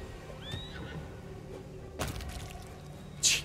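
Horse in the fantasy video game Pathfinder: Wrath of the Righteous gives a short whinny, followed by a few hoof clops and a bright splashy effect near the end, set over faint game ambience.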